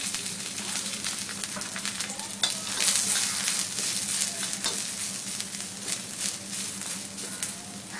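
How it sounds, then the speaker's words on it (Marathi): Onion, garlic and ginger fry in oil in a pan with a continuous close sizzle and occasional stirring scrapes, with no voices. "यामध्ये आता थोडंसं तेल घालायचं आणि आपल्याला यावर लसूण आणि आलंही परतवून घ्यायचं आहे."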